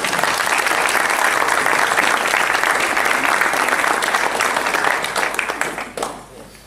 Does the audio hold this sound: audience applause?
yes